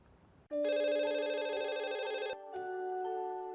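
A telephone rings with a loud, bright electronic tone that holds steadily for nearly two seconds, breaks briefly, then resumes more softly.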